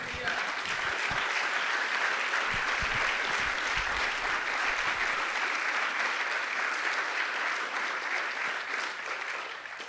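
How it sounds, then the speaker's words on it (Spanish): A church congregation applauds in praise during a Spanish-language sermon, producing a dense, sustained wash of clapping that lasts the full ten seconds before easing slightly, with some voices mixed in. "¿Quién puede bendecir al Señor con un aplauso?"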